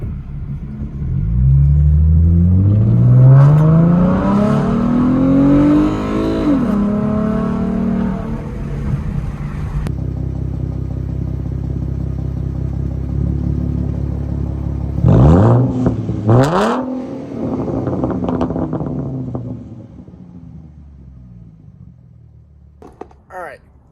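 A V6 Ford Mustang with shorty headers accelerates at full throttle with the windows down, its engine note climbing loudly through a rising run, then a second sharp rev burst later, with voices heard near the end.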